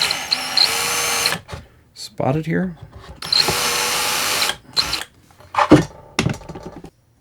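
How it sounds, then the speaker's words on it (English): Power drill boring holes in angle iron, two long loud whining bursts separated by shorter bits of talk, clanks and a few brief drill runs. "we need to mark our angle iron and drill it"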